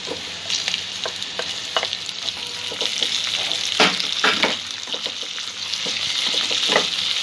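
Chopped tomato frying and being stirred in a pan: a steady close sizzle broken by repeated scraping strokes of the spoon, with no talking.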